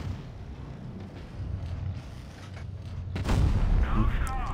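Tank cannon shot in the video game WoT Blitz, one booming blast near the end after a low rumbling engine bed, followed by a brief ringing tail.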